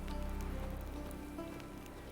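Steady rain falls across the scene in The Witcher 3, a dense continuous hiss of drops pattering on surfaces around thatched roof huts, moderately loud and unbroken, with no voices.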